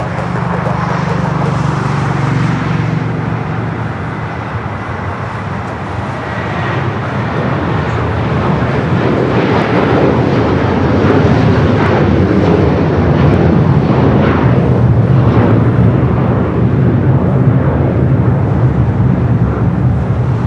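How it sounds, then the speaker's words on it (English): A United Boeing 757-300 rolls down runway 25 right at LAX, its broad engine roar building steadily and staying loud and close throughout, a continuous rumbling wash with no pauses. "United 757-300 now rolling down at 25 right."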